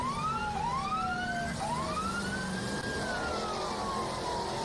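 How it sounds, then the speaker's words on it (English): An emergency siren wails with rising and falling sweeps over a steady off-road racing engine roar at an Ultra4 event in Jay, Oklahoma, loud and continuous throughout. "you can hear the siren there at the Little Blue."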